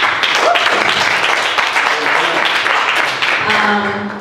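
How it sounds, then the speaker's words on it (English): An audience claps at a Q&A with poets, a dense, fairly loud patter of many hands that holds steady for about four seconds, with voices mixed in. "Clap for that."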